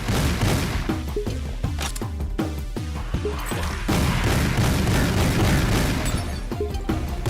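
A shotgun with no reload in the shooter game Project Warlock fires in a rapid, nearly continuous string of loud booming blasts. Crashing impacts overlap the shots for several seconds.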